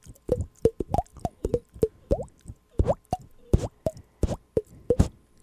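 Mouth-made plops imitating water drops falling into a cup, a quick irregular series of about twenty wet, resonant pops, close and fairly loud, with no talk.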